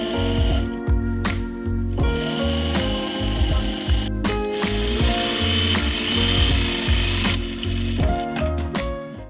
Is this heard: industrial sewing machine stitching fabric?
yes